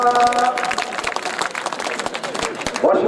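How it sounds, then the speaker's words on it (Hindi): A crowd claps at a Urdu poetry mushaira in Adawad, Jalgaon; dense, continuous applause rattles along under a voice speaking over it. "तालियां"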